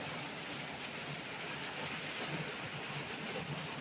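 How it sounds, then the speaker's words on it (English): Rain falls outdoors in a steady, even hiss. It is soft and constant, with no separate drops standing out and no voices. "It's raining, it's pouring."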